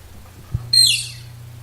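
A Casio CZ-1000 synthesizer playing a patch that imitates a Moog Prodigy: one short, bright, chirping tone that sweeps downward, sounding briefly and cleanly over a faint low hum.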